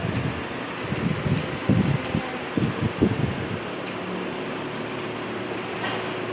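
A steady whooshing hum of a small portable fan built into a Ubon 5-in-1 speaker, running close by, with a few soft knocks and rustles early on.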